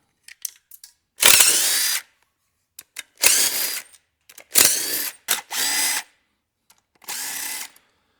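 A power tool buzzes in several short, loud bursts close by while the aluminum intake manifold comes off a rusty engine. Brief clicks and pauses fall between the runs.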